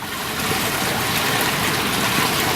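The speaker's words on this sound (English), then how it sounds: "We can see here that the water is flowing." Steady rushing of water flowing through backyard drainage pipes during heavy runoff, a continuous broadband wash with no voices.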